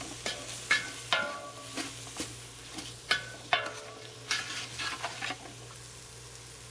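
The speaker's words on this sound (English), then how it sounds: "you're going to want to go ahead and keep stirring it and make sure that there's enough olive oil in there" Chili seasoning mix is stirred in olive oil in a pan, with a spoon scraping and clacking at irregular intervals over a soft, steady sizzle.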